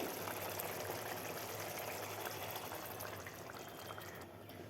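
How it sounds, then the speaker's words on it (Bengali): Water poured into a cooking pot holding boiled potatoes and spiced fish curry broth, a steady, close splashing pour that runs continuously before easing slightly near the end. "এখন জল দিয়ে দেবো।"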